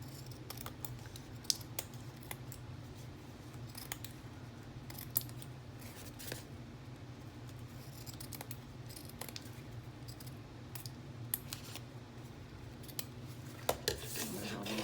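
Scissors snip close up through woven book pages and ribbon, giving crisp, irregular cuts scattered over a steady low hum, with no talking.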